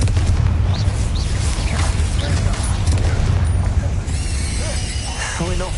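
A Confringo blasting spell from Hogwarts Legacy sounds as a dense, booming burst of explosive rumble with crackling debris, while a voice shouts the spell and battle noise carries on around it.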